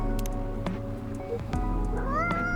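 A house cat meows a few times in a kitchen where a drink machine has been running, its rising cries clear over a steady low machine hum and background clatter.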